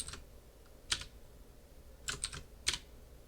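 Keys clack on a computer keyboard as code is entered at a programming prompt during a computer science lecture: a handful of separate close keystrokes, some in quick pairs, spaced over a few seconds against a quiet room with no talking.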